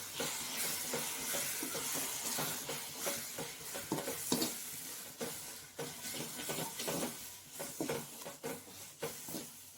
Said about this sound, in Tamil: போட்டு நல்லா கிளறி விட்டுக்கணும்.